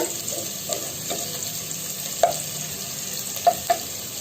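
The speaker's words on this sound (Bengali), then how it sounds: "পেঁয়াজটা দেখো ভেজে নিচ্ছে সুন্দর করে ফ্রাই প্যানে" Sliced onions fry in a frying pan with a steady, close sizzle, broken by occasional light clinks of stirring.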